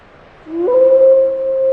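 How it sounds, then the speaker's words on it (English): A female wolf in Yellowstone gives a single long, loud howl that begins low, rises quickly and then holds a steady pure tone, heard alone and clearly. "Her howls identify her as an available female."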